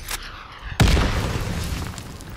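A rocket blast in a shooter video game lands as one sudden loud boom, with a deep rumbling tail that fades slowly after a quieter lead-in.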